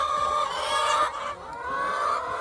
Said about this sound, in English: there are chickens laying eggs